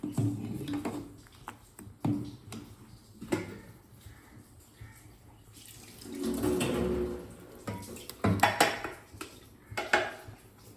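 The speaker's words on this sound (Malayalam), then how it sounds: "അതിനുശേഷം നല്ലപോലെ ഒന്ന് ഇളക്കി കൊടുക്കും." Papaya erissery being stirred in a pot, with irregular scraping and clanking of a utensil against the cookware, a longer rattling stretch midway and a cluster of knocks at the end, close and without talking.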